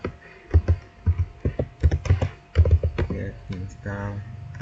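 Keys tapped on a computer keyboard while entering a terminal command, short bursts of clicks mixed with a low thudding and some speech.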